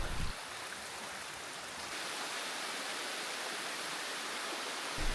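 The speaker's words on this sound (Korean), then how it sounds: "앞쪽에 오늘 저의 목적지 와폭포가 보입니다." A waterfall in a valley along a gorge trekking route roars with a steady, dense rush of falling water, close and loud, with no voices.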